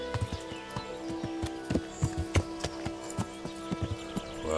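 Horse hooves clip-clop at a walk on the ground in Kingdom Come: Deliverance, a steady rhythm of close, distinct hoof strikes with a faint snort, alone without talk.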